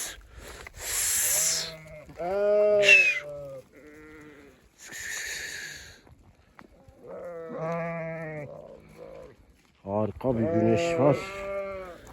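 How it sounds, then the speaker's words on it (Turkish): A flock of sheep bleats repeatedly on a sunny spring day at a farm, loud harmonic cries overlapping one another, with someone speaking briefly between them. "Ama koyunlar durmuyor."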